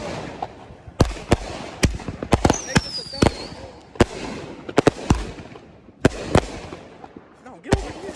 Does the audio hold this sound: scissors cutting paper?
no